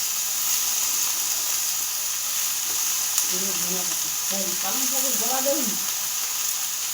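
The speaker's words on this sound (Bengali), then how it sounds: "এই যে মূলো আলু বেগুন এগুলোকে কড়াই দিয়ে দিচ্ছি ভালো করে নেড়ে চেড়ে একটু লাল লাল ভাজা হলে" Radish, potato and eggplant frying in a wok, a steady close hiss and crackle of hot oil running throughout, with a voice speaking briefly over it partway through.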